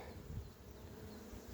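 Faint, steady low buzzing of bees around a beehive, a soft continuous insect drone with slight fluctuations and no speech.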